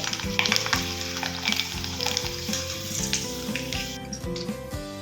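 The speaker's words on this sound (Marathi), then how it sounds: "तेल भरपूर तापलेलं असल्यानंतरच आपल्याला वेफर्स त्यामध्ये तळून घ्यायचे आहेत तर आता इथे पाहू शकता वेफर्स मी टाकले" Homemade potato wafers deep-frying in plenty of hot oil, a dense, loud crackling sizzle that bubbles on continuously with occasional metallic clinks, close up and without talking.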